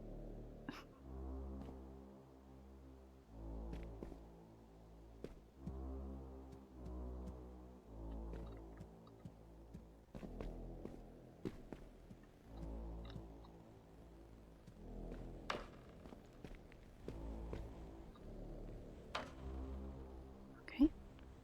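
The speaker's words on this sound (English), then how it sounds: "Oh, kitty. Weird kitty." A cat in the puzzle video game Viewfinder gives repeated low meows with a soft purring drone beneath, recurring in short phrases, with sparse background sounds and no speech.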